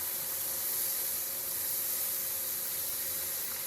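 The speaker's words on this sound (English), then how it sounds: "You'll hear it sizzle." Pot roast liquid sizzling in a hot pan, a steady, loud, hissing sizzle that holds evenly without a break and with no voices over it.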